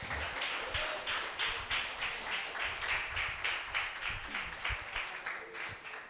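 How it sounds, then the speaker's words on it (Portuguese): A church congregation claps hands in praise during a worship service, a steady, even beat of loud, full-room claps with faint voices underneath. "Exalte o Senhor com as suas palmas."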